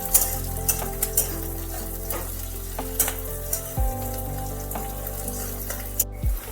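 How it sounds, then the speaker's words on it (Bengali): Chunks of ginger, garlic and onion frying in hot oil, a steady loud sizzle with a few light knocks of a spoon against the pan, no talk. "এই আদা রসুন আর পেঁয়াজটা ভালোভাবে একটু তেলের সাথে ভাজতে হবে।"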